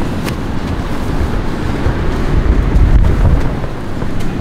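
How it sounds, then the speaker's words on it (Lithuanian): Strong wind off the sea at Palanga buffets the microphone in a continuous low roar with gusty rumbles that build slightly toward the middle. "čia pučia jūra iš šono."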